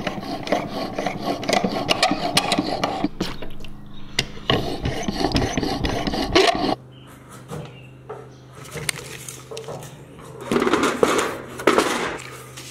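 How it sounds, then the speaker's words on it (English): Handsaw cutting through timber for timber frame roof braces, a coarse rasping stroke sounding again and again, pausing midway to a quieter low hum before more scratchy, uneven sawing resumes close up. "when you try to cut through here, the saw is, with the handsaw, it's just diving into this opposite cut"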